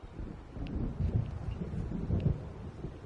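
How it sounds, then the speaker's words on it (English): Low rolling thunder from an approaching storm in the video game Alan Wake, a continuous deep rumble with swelling peaks, mixed with faint rain and wind, no voices. "It seems there's a storm coming."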